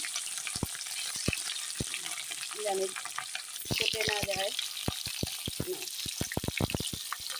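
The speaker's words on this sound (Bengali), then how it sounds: "কড়াইতে তেল দিয়ে দিয়েছি তেলে আমি পনিরটা দিয়ে দিচ্ছি" Paneer pieces go into hot oil in a kadai, and a steady sizzle of frying runs throughout with a few sharp clicks of handling and stirring, while someone speaks briefly.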